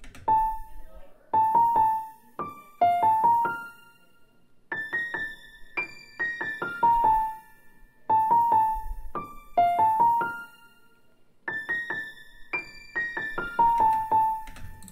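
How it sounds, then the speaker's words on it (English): A dry piano preset called First Star from Xenology, used for an ambient nature-style beat in FL Studio, plays a gentle repeating melodic pattern of clear, bright notes with short pauses, solo and fairly quiet. "I went with this piano from Xenology called First Star, and this is what it sounds like dry."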